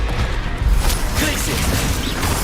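A Leviosa spell is cast in a video game, producing a loud, close magical effect of dense whooshing rumble and crashing texture that fills the whole moment without pause.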